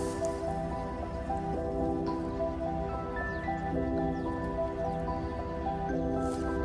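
Irrigation water pouring into a farm field, a steady rushing and splashing flow heard at constant loudness, with tonal music running underneath.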